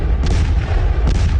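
Heavy artillery guns fire during a Chinese military exercise on the India–Tibet border with armoured vehicles, two sharp booming blasts about a second apart over a continuous low rumble, loud and close.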